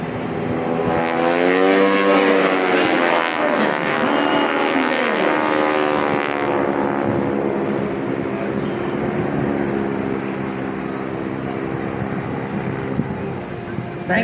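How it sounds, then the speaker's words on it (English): World War II T-6 trainer aircraft roar overhead at a beach air show, a loud, droning propeller engine sound that sweeps past and lingers, with an announcer's voice over it. "demonstrate to you the capability of these classic World War II T-6 SH aircraft"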